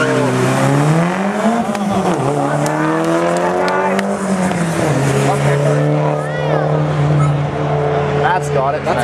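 A turbocharged Honda Civic and a GTI R race past at a drag strip, engines revving loudly and rising through the gears, over an announcer's voice and crowd noise.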